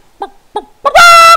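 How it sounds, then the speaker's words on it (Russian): A rooster in the video game ARMA 3 DayZ Breaking Point gives two short, close clucks, then a loud sustained crowing squawk. "петух"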